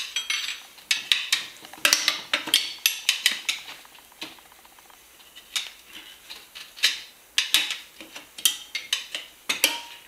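Metal tire irons prying a motorcycle tire off its rim, a rapid run of sharp metallic clinks and scrapes close by, with a short quieter pause in the middle.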